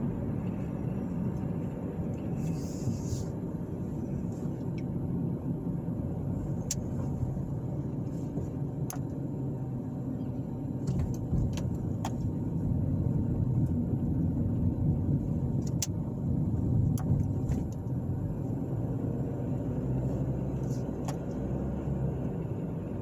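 Steady low rumble of a car cruising along a road past apartments in Carmel, Indiana, heard from inside the vehicle with constant road and engine noise and a few faint ticks, no talking.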